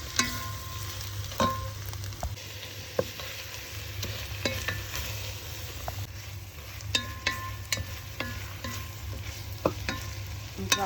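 Spicy chicken frying in butter in a pan, a soft steady sizzle with frequent clicks and scrapes of a utensil stirring it.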